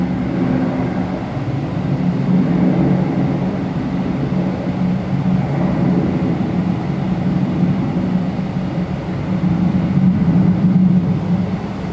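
An airliner takes off at Toronto Pearson airport, a steady broad engine roar with a low hum that holds loud and even throughout, with no voices.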